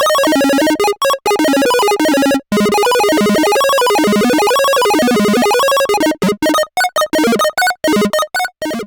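A Make Noise 0-Coast synthesizer plays a fast, bright arpeggio like an arcade game sound, its squeaky tones rising and falling in wavering runs, then breaking into choppy, gated bursts near the end, loud and alone.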